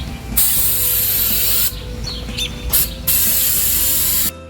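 An aerosol can sprays rubber flexible paint onto a car door edge in two long, loud, close hissing bursts, with brief shorter puffs between them.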